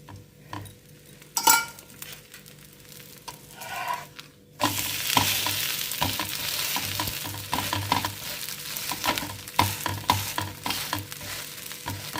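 Raw jackfruit dosa batter sizzles on a hot pan with ghee or oil. Quiet utensil scrapes and clinks come first, then a loud, continuous frying hiss takes over, with small spoon taps within it.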